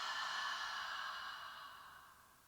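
A single slow, soft exhaled breath during a guided breathing exercise, airy and close, fading gradually over about two seconds with no talk over it.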